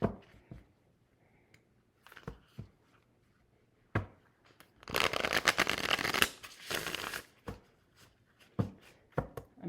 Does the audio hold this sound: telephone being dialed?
no